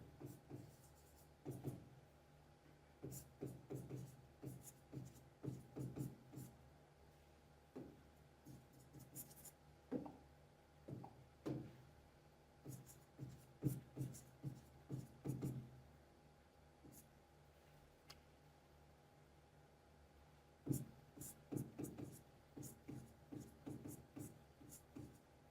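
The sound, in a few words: writing while working an electrochemistry equation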